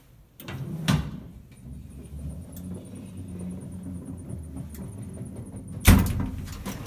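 A Savaria Concord home elevator's folding gate in a hotel clatters and slides, with a metallic knock near the start, a quiet rumbling drag in the middle and a louder clunk near the end, and no speech.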